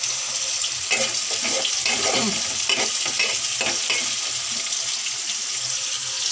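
Shrimp and green banana fry in hot oil, a steady bright sizzle broken by stirring clatters and scrapes, with no voices.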